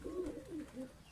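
A Peepal-wala pigeon coos in a few short, low, wavering phrases close up, steady and unhurried, with no voices.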